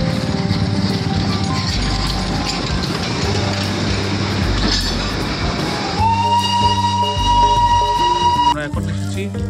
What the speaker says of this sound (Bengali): ওই যে পেছন থেকে শুনতে পাচ্ছেন টয় ট্রেনের আওয়াজ, মনাস্ট্রির একদম গা ঘেঁষে টয় ট্রেন যায়।